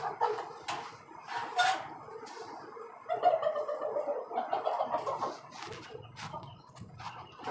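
Desi and tiger chickens with a rooster in cages on a chicken farm give scattered clucks and short, sharp calls. The calls are close and uneven, with brief quiet gaps between them.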